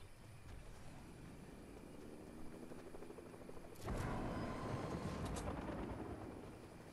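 A low, droning rumble of a distant helicopter in a video game grows louder and rougher partway through, steady and mechanical with no voices.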